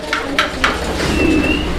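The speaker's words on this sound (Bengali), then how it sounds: "দর্শক বন্ধুরা আপনারা দেখেন কবুতর যদি পছন্দ হয় ভালো লাগে" Pigeons offered by a breeder coo softly up close in a short burst, mixed with a few quick chirps and a thin whistle-like call, with no talking.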